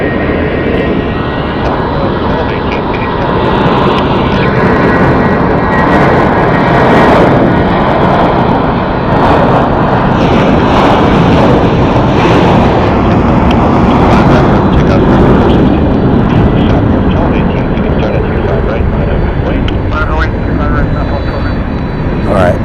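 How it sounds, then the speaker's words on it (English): An American Airlines Airbus A319 taking the runway at Phoenix Sky Harbor Airport, its engines producing a loud, steady roar that fills the whole stretch, with a voice speaking over it. "What do we got taking the runway here? American 416 heading to Sacramento on an Airbus A319."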